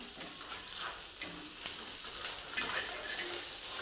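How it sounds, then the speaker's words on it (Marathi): Fish fillets frying in hot oil in a pan, a steady crackling sizzle with brief sharp spatters, close and continuous with no talking. "आणि चांगलं खरपूस आपण तळून घ्यायचे दोन्ही बाजूने आपण मासे"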